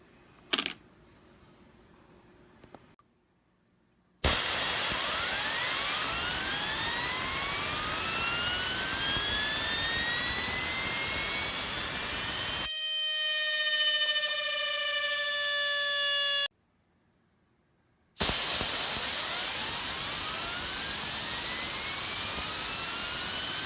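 Small round Grimsmo Knives mini fidget spinner with a good bearing spinning on its own for a long stretch: a steady high whirring hum with gliding tones, broken by a couple of short silent gaps, no talk.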